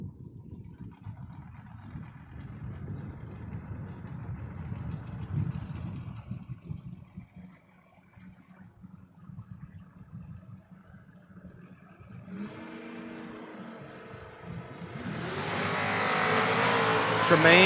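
Drag race cars, a 1970 Opel and a notchback, rumble and rev loudly, then one car launches with a rising roar that builds and grows louder toward the end, with talk over the engines.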